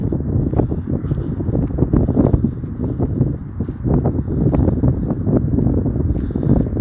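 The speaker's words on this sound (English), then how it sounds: "it's windy as hell, and you're not going to hear a word that I'm saying." Strong outdoor wind buffets the microphone in a steady, loud rumble with choppy gusts and thumps throughout, with no clear voice over it.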